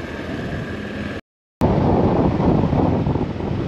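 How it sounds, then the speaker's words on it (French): Strong sea wind off the Indian Ocean roars across a small coastal road near Mananjary, Madagascar, a loud steady rush broken by a brief silent gap before resuming even stronger. "Beaucoup de vent sur cette petite route en direction de la côte."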